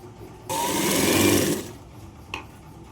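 A sewing machine runs in one steady burst of about a second while stitching a lined blouse, close by. A brief faint mechanical click follows, and nobody talks.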